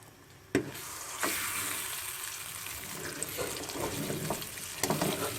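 Ground moong dal roasts in a pan over low heat for halwa, giving a steady crackling sizzle. A spoon stirs quickly and makes occasional sharp clanks against the pan.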